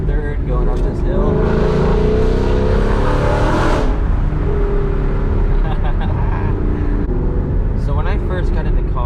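A Ford Mustang GT in third gear climbs a hill, its engine a steady droning rumble throughout with rushing road and wind noise, while someone talks over it.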